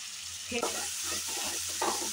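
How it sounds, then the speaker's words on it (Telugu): Cumin and masala are stirred into a hot cooking pan of turmeric-spiced vegetables for cucumber pachadi, giving a steady oily sizzle with scraping stirs throughout and a louder stroke near the start. "ఒకసారి మొత్తం ఇలా కలుపుకున్నాక మసాలా జీలకర్ర కాస్త వేస్తున్నా"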